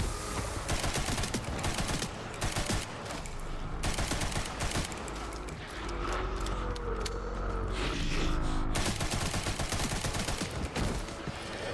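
A machine gun fires in a video game, a dense, loud, nearly continuous rattle with brief breaks, heavy and close throughout.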